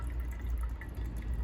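Old, varnished fuel drips out of the fuel system of a Honda EX1000 suitcase generator into a tin can. The drips are faint and repeat irregularly over a low, steady background rumble.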